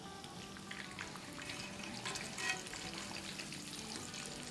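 Mutton chops coated in cornstarch and egg fry in a pan with a soft, steady sizzle and crackle, faint and continuous with small pops.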